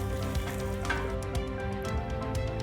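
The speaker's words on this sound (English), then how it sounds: "You hear that little sizzle, you know it's right." Onions and garlic sizzling in oil in a pan over medium heat for tomato soup, a steady close crackle with small pops, alone.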